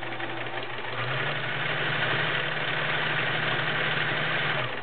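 A 1941 Kenmore convertible sewing machine with a size 16 needle stitches through five layers of real denim, giving a steady, loud mechanical whir with a low droning hum that runs continuously without pause.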